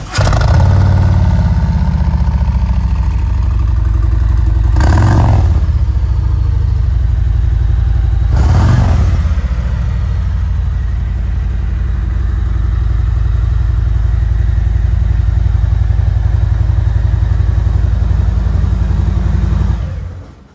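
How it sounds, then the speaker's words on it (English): A 2021 Harley-Davidson CVO Road Glide with a stage one Milwaukee-Eight 117 cubic inch V-twin rumbles loudly nearby at idle, with two brief throttle blips lifting the deep, lumpy exhaust note. "It has a gorgeous 117 cubic inch motor, Milwaukee 8, stage one, and not only that, but it sounds beautiful."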